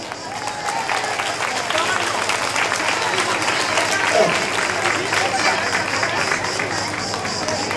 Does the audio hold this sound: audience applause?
yes